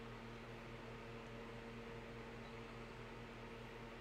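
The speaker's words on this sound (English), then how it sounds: "I got a fan on because it's hot as hell" Electric fan whirring steadily in a warm room during a Madden 17 gaming session, a constant low hum with faint tonal motor drone and airy noise, unbroken and fairly quiet throughout.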